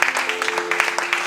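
A church congregation at a French-speaking Christian assembly applauds and cheers, a short burst of dense rapid clapping with a sustained tone and some voices underneath.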